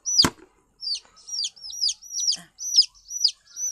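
Repeated high, thin peeping calls from chicks, about eight short chirps in a steady series after one sharp sound at the start.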